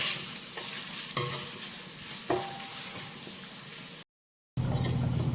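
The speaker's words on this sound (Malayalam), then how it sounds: "അത് നമുക്ക് സവാള ഒന്ന് വഴറ്റി വരട്ടെ." Sliced onions sauté in a pan for an egg curry, a soft continuous sizzle with a few stirring knocks, briefly cut to silence before the hiss returns louder.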